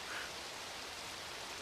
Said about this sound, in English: It's been decades since it rained like this in this desert city of Mansbaya.